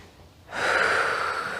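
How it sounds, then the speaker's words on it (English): A person breathes in sharply through the nose during a fit ball exercise, a single close, breathy intake that starts after a short quiet moment and carries on steadily to the end. "Breathing in through the nose."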